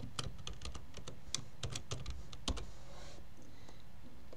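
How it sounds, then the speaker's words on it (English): Fingers tap out a password on a computer keyboard during a Windows Server 2019 remote login, a quick run of distinct, close keystrokes with a few short pauses and no voices. "Enter the password that you've created."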